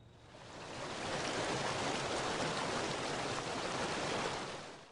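The Colorado River flowing through Rocky Mountain National Park, a steady broadband rush of moving water that swells slightly and holds even, with no voices.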